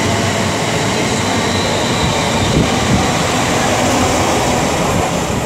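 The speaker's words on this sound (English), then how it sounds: "departing here at the 1416 London Northwestern Railway service from Birmingham New Street to London Euston" A London Northwestern Railway service departs Rugby station on the West Coast Main Line, its loud, steady rumble and rail noise filling the platform without a break and with no voices.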